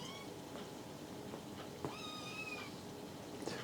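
A house cat meows softly a couple of times indoors, the calls rising and falling in pitch over a steady background hum.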